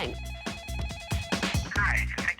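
A telephone rings again and again with no one answering. It sounds as a steady repeating electronic ring pattern, fairly close and clear.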